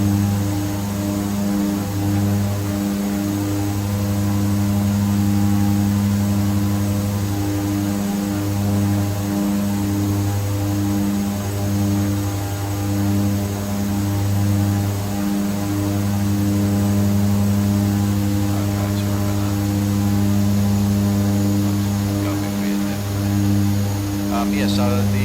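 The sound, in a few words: Twin Otter propeller aircraft engines in flight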